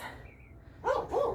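A dog barks twice near the end after a quiet stretch with a faint high whistle, the barks clear and fairly close.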